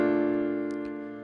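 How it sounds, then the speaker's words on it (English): Piano ballad voicing with shell chords in the right hand sitting under a melody line and a bass note in the left hand, played as a single sustained chord that rings and slowly decays. "now you have shells underneath your melody with bass note in your left hand"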